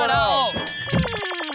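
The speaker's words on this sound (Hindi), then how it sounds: "आखिर सेठ जी का फोन आया।" A telephone rings with a rapid warbling electronic trill in the second half, following a voice and a descending tone at the start.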